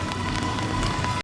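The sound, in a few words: rain falling at Dollywood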